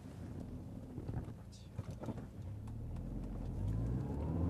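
A 1998 first-generation Audi TT with 90,000 km pulls away, its engine hum and road and wind noise building steadily from inside the cabin, with faint movement sounds and no clear talk.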